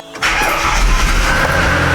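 A BA/BF Ford Falcon engine, just fitted with new ignition coils, cranks briefly and fires up, then settles into a loud, steady running note close by with no talking.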